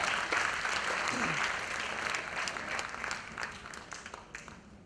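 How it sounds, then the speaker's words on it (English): An audience applauds as speakers from the education sector come onto a stage, a dense wash of clapping that starts strong, then gradually thins and fades toward the end, with a voice faintly audible underneath. "With a huge round of applause, let's welcome these two leaders of the education sector"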